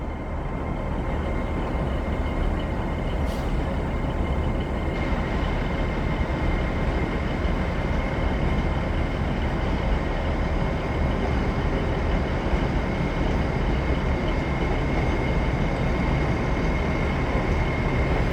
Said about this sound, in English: He's a Northern World train coming in now, guys.